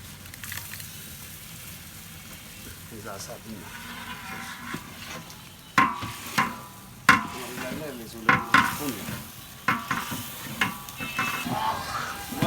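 Ginger and garlic sauté in a pan in a cook's kitchen, a steady sizzle under a voice, punctuated by sharp spatula scrapes and knocks that come in a loose rhythm toward the end.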